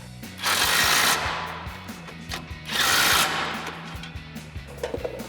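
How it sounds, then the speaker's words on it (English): Two loud bursts of a powered tool driving an 18mm socket onto factory bolt plates while mounting a Ranch Hand Legend Series front bumper on a 2017-2022 Ford F-250, with clanking handling noise between. "we're going to grab our 18mm socket and tighten those down"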